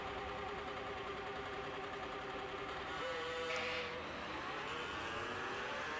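A 1972 Kawasaki H2 750 drag bike sits on the line at a drag race, its engine producing a steady, fairly distant buzzing drone that rises and shifts in pitch partway through amid a broad background roar.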